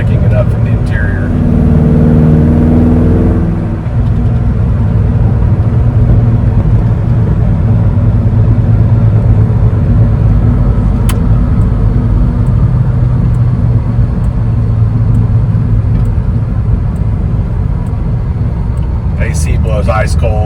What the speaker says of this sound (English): A separate video of the exhaust note on this truck because it really does sound good.